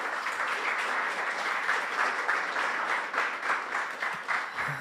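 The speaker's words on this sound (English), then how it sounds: "Big applause to Wojciech for this presentation" Audience at a GraphQL Wroclaw meetup claps steadily after a talk, a dense, even wash of many hands sustained throughout at moderate distance with no voices.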